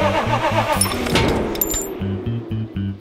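An animated baby truck's engine from a children's cartoon cranks and fails to catch, a steady run of rhythmic chugging sputters with a few light metallic clinks in the middle, close and fairly loud.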